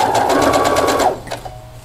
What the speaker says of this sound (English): we're going to go ahead and take a couple stitches and then stay stitch this